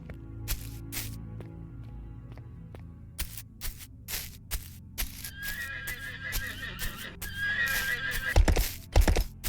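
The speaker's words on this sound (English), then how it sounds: "I just saw a horse over here, so we're going to go see about this horse" A horse in a video game whinnies loudly amid scattered clicks and hoof clip-clops, with a shrill neigh rising toward the end.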